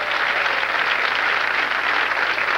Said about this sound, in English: Bowling spectators, they'll applaud just about anything.